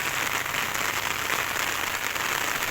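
Heavy rain pours down outdoors where rice is laid out to dry, a constant, loud hiss of falling water with no breaks and no voices.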